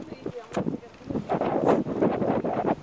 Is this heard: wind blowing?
yes